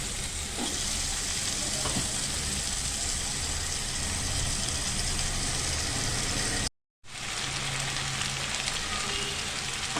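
Potatoes for a masala aloo curry fry in hot oil, giving a steady, loud broadband sizzle that carries on almost without pause, broken once by a brief dropout.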